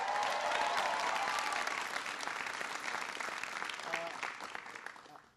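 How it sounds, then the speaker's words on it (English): A crowd at a political event applauds Congressman Bill Keating, a broad wash of clapping that starts strong, gradually tapers and fades out, with a few scattered voices underneath. "Give Bill a big round of applause."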